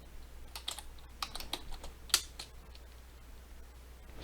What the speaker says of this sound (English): Let's see what happens when I type things in.